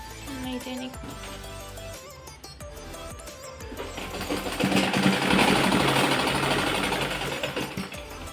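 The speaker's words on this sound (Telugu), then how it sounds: "నా మిషన్ పాత మిషన్ అండి సరిగా రావట్లేదు" An old sewing machine stitches a frilled frock up close, a fast, steady mechanical chatter that speeds up and grows louder partway through, with no talk.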